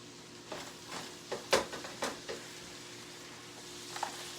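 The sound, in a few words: browned keto chili meat simmering in a pot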